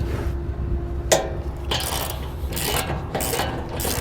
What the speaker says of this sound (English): we're gonna take a 3/4 inch socket here and begin loosening these 2 bolts